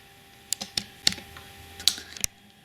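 A handful of crisp, irregular light taps and clicks as tarot cards are handled and prepared on a table, quiet and close, with no talking.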